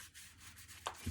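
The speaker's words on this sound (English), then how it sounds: "We just need to start sanding the stuff to make sure it's." Dried filler being sanded by hand on an MDF office wall, a steady soft abrasive rubbing with a sharper scrape near the end.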